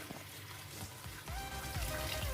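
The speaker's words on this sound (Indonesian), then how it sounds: "Dicuci pakai air mengalir." Potatoes being washed under running water from a kitchen tap, a steady pour and splash that grows louder in the second half, with no voices.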